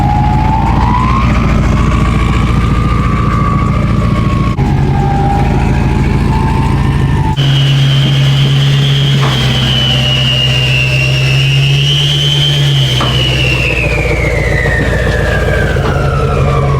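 A Duramax pickup truck rumbles loudly at close range while being driven off a trailer early in the morning, its engine tone rising and falling, with a high whining or siren-like tone sweeping above.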